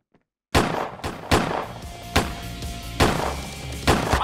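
Gunshots in Autobahn Police Simulator 3: after a brief silence, six loud, sharp shots ring out at irregular intervals of roughly half a second to a second, each with a short decaying tail.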